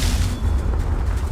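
A Confringo spell explosion in Hogwarts Legacy, a heavy, rumbling boom with dense low-end roar lasting through the moment, loud and close without speech.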